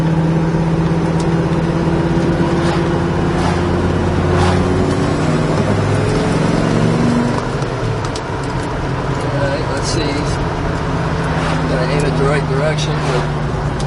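A 1970 Dodge Challenger driving on a busy road, its engine a loud, steady rumble heard from the cabin, with pitch shifting as it accelerates and settles, and occasional brief clicks over it.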